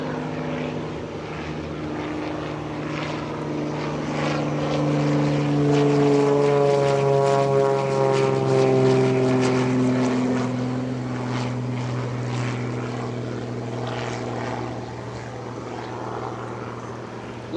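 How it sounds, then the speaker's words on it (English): An RV-6 homebuilt propeller airplane takes off at an airshow, its engine droning loud and steady, swelling as it passes close by with a shifting propeller pitch, then easing slightly as it climbs away. "The RV6 is taken to the air momentarily here."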